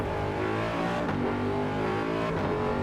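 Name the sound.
racing car engine in video game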